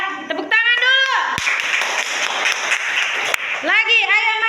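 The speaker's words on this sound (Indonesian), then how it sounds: "tepuk tangan dulu" Brief round of hand clapping from a group in an indoor performance assessment setting, a few seconds of mixed claps between stretches of talking voices.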